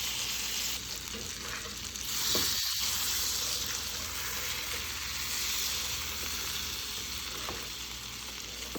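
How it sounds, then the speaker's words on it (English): Peanut butter gets stirred into a hot pot while making chili crisp pasta. A soft steady sizzle with occasional spoon scrapes runs throughout, quiet and close, with no talk. "I'm just going to mix this until the peanut butter is melted and it's nice and creamy."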